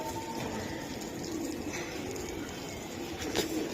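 Soft cooing of Giribaz pigeons repeats under a steady background rumble, faint and somewhat distant.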